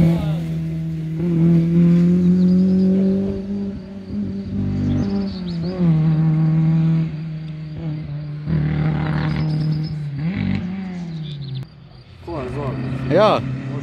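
Rally cars at a Velenje rally stage, heard as engine drones and revs that rise and fall as they pass. People talk over the passing cars throughout.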